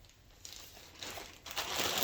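A plastic bag crinkles as toiletries such as a toothbrush and skincare items are packed into it for a cruise. Soft rustling bursts build and grow louder toward the end, with no talking.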